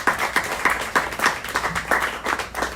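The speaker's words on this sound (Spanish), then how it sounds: "Vamos a darle un aplauso, por favor." Applause from an audience at a Spanish-language book presentation held outdoors in a plaza, steady irregular clapping throughout, moderately loud and close, with no speech over it.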